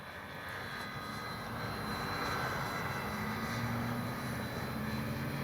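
A Dynam BF-109 RC warbird model plane drones overhead after a touch-and-go, its propeller engine a steady, moderately distant hum that swells slightly over several seconds.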